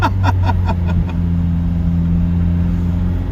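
A McLaren sports car revving hard in second gear, a loud throaty engine climbing then settling into a sustained droning roar close by.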